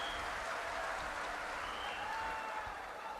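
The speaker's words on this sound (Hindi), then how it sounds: "दादा को ताली बजाओ" An audience claps together at a religious gathering in India, a steady, fairly distant wash of applause lasting a few seconds without pause.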